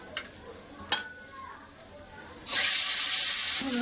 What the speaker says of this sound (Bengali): সব মাছগুলো ভেজে নেবো